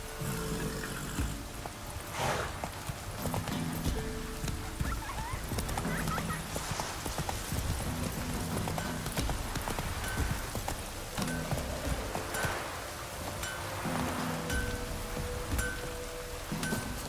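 Roach, Geralt's horse in The Witcher 3, trots along with a steady clip-clop of hooves over a continuous wash of rain and ambient game sound.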